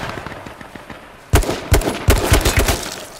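Gunfire in the video game H1Z1, a few sharp, loud shots in a quick irregular cluster, heard after a stretch of quieter background noise.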